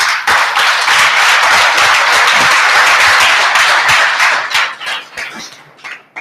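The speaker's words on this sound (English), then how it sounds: "we need to clap hands for them" Audience applause at a university library book discussion, a loud dense burst of many hands clapping that holds for several seconds and then thins into scattered claps before stopping.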